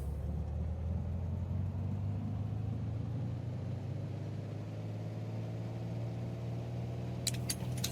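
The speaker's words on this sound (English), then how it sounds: "sit on the wheel brakes and let's rev her up." Engine of a Piper Archer II light aircraft in a flight simulator game, a steady droning hum held at constant pitch during a run-up on the brakes, loud and continuous with no talk.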